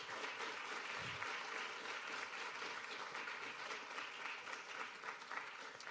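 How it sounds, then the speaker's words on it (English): Audience applause after a product design senior presentation, a steady, even wash of clapping filling the room from start to finish at a fairly faint level, with a brief low thump near the start. "Just one more round of applause for our esteemed students,"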